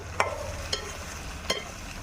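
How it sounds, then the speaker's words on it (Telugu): Ridge gourd pieces are stirred through hot oil in a pan, with three distinct scraping strokes over a soft, continuous sizzle and no talking. "ఇప్పుడైతే బీరకాయ ముక్కలు కూడా వేసుకుందామండి. అన్నీ ఒకసారి కలుపుకుందాము."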